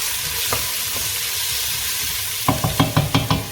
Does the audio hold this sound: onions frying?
yes